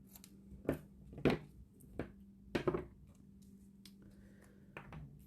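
Scissors cut bow tie fabric at an angle: about six to eight distinct, sharp snips are spaced irregularly over a quiet background, with a faint low hum underneath.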